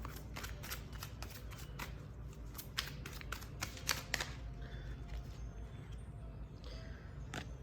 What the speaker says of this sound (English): So I want to pull some more tarot.